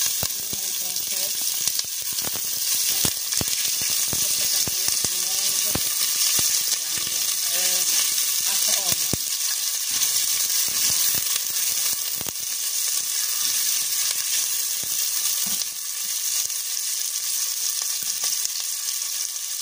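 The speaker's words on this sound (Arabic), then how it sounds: "وهلا بنسقط البصل الجوانح" Onions dropped into plenty of hot oil produce a loud, continuous sizzle, with faint voices audible beneath it during the first half.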